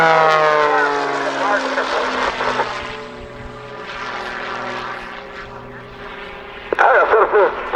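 A Pitts propeller biplane roars past overhead during an aerobatic display, its engine pitch sliding downward as it passes, then a sharp surge as it pulls into another manoeuvre.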